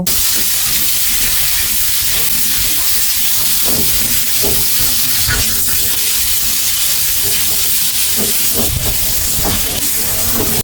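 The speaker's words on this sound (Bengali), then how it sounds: "এগুলাকে এখন হাফ চামচ হলুদ এবং হাফ চামচ চামচ লবণ দিয়ে তিন থেকে চার মিনিটের জন্য ভেজে নেব" Potatoes fry with turmeric and salt in a village-style kitchen, giving a loud, continuous hissing sizzle, with occasional scrapes and knocks breaking through the steady crackle.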